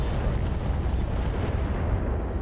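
Improved medium-range missiles in the RogueTech mech game launch in a loud, dense burst of booming blasts that roll together into a continuous roar and then begin to fade.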